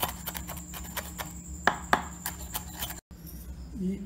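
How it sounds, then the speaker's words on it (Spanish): A knife finely chopping a jalapeño pepper on a board, producing a few crisp knife taps over steady background hum, with a short gap near the end. "Picamos muy finito nuestro chilito jalapeño"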